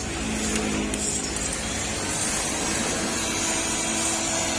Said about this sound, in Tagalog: papainitan ko muna siya ng blower para hindi basag